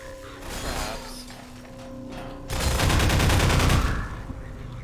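Automated turrets in the video game Half-Life 2 fire in a dense, rapid burst that swells loudly over the middle of the clip, running over steady mechanical game background noise with no talking.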